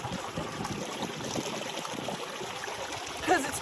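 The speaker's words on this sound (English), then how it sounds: "And look at this little waterfall. I'm listening to it tickle." Small desert waterfall trickling steadily into a pool, a soft continuous wash of running water heard up close and fairly quiet, with faint background noise throughout.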